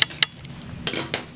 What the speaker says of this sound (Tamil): ஊற்றிட்டு நல்லா அப்படியே கலக்கி விட்டுருவோம்.